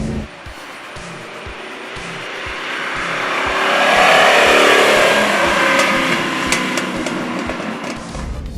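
A 1985 Lamborghini Jalpa with a 3.5-liter engine revs loudly while driving, a rising and swelling mechanical roar with regular pulsing that peaks midway and then eases slightly, with no talking.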